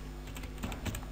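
Typing on a computer keyboard: quiet, close key taps come in an irregular run, with a few louder strokes standing out from a soft steady background.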